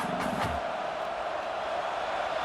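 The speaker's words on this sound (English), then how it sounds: "listen to this crowd noise. This stadium is vibrating." In a college football video game simulating Oregon versus Iowa, a stadium crowd keeps up a dense, steady roar throughout, with a brief louder swell at the start.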